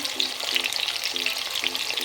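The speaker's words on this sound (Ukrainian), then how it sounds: "Наша рибка кварчить дуже приємно." Crucian carp fry in a pan over an outdoor fire, giving a steady close sizzle and crackle with light scraping or stirring sounds repeating through it, and no one speaking.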